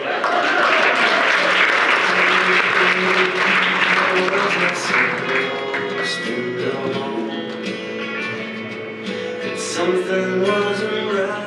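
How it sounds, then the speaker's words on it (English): Sustained audience applause at an improv comedy show, a broad steady wash of many hands clapping that lingers under emerging voices and musical tones as it gradually thins. "Now you can clap."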